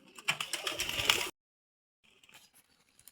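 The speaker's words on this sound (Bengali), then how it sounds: "আর দেখেন কবুতরগুলা খাইতে যেতেছেন" Pigeons coo close by in a rural yard, a burst of soft, throaty calls lasting about a second before cutting out, then faint scattered rustling and chirps; nobody speaks.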